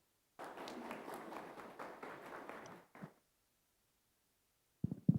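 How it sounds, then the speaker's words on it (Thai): An audience at a Thai AI technology course applauds to welcome a company executive to the stage, a dense burst of clapping lasting a few seconds before it fades out, followed by a short pause and a couple of faint thumps. "ขอเสียงปรบมือต้อนรับด้วยค่ะ"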